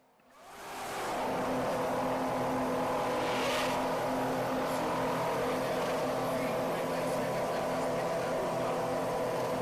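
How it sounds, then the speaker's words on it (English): Formula 1 race cars at a race: a sharp engine scream swells in within the first second, then holds a loud, continuous high-pitched roar with shifting whines as cars pass, no talk. "These deafeningly loud machines are F1 cars."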